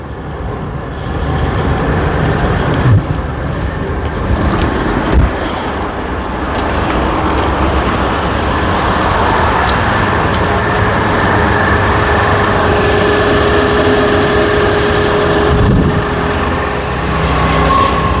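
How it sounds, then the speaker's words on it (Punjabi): A car engine runs steadily with the air conditioning switched on, a thin squeak from the AC belt sitting faintly over the loud, continuous mechanical drone. "ਇੱਕ ਚੀਕ ਜੀ ਦੀ ਆਵਾਜ਼ ਆਉਂਦੀ ਚੀਕ ਜੀ ਦੀ ਬੈਲਟ ਦੀ ਹੈ ਏਸੀ ਆਨ ਹੈ"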